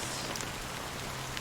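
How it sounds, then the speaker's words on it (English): Steady rain falls in the video game Honkai: Star Rail, a soft, even hiss of drops on a surface that continues without a break for the whole stretch. "how long has this rain been going on for?"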